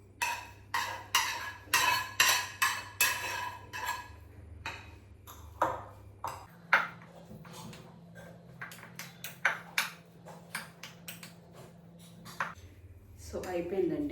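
A spoon mixes potato garlic rice in a pan, giving repeated clinking scrapes against the metal in an uneven rhythm, close and moderately loud, under steady talking.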